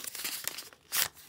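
Plastic packet torn open by hand for a Halloween food collection, a close crinkling rip in several short bursts that finishes with one louder tearing burst, with no talking.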